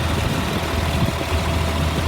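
A 2004 Blue Bird All American 72-passenger school bus engine idles with a steady, low diesel rumble, close and even throughout, no voices.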